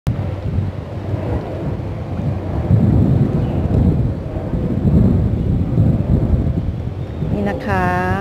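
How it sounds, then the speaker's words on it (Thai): Strong wind buffets the microphone outdoors at Wat Plai Laem temple on Koh Samui, a loud, gusting rumble that swells and eases under someone talking. "อากาศที่นี่ก็ส่วนใหญ่ก็จะเป็นลมค่ะลมเยอะมาก"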